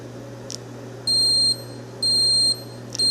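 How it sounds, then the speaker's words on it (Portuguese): A home-brewing controller sounds repeated pairs of shrill electronic beeps, each about half a second long, to signal that the malt should go in, with a steady low hum underneath. "Para interrompermos esse bip, nós clicamos Stop"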